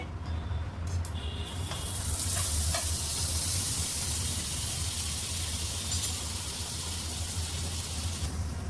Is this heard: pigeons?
no